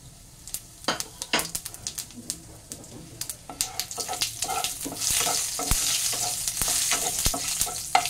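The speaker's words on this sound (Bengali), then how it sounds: "দিয়ে দিচ্ছি একটা শুকনো লঙ্কা, একটা তেজপাতা, 4টে এলাচ, 2 টুকরো দারচিনি, 4টে লবঙ্গ, আর একটু সাজিরা।" Dried red chili, a bay leaf, cardamom, cinnamon, cloves and shahi jeera crackle and sizzle in hot oil in a home kitchen, with bright spattering pops and occasional stirring clinks building to a steady loud hiss.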